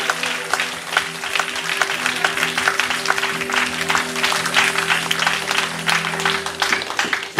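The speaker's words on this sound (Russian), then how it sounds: "Аплодисменты Господу нашему Спасителю!" A church congregation applauds at a seminar in Kryvyi Rih, with dense, sustained clapping throughout while organ or keyboard tones hold underneath.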